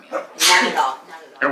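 A single sharp sneeze bursts out close by, with people talking just before and after it during a paranormal investigation in Citrus Heights.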